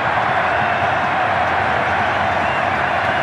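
Dense, roaring stadium crowd in Tel Aviv cheering an Argentina stoppage-time penalty equaliser by Messi, a loud steady wash of massed voices sustained throughout without breaks.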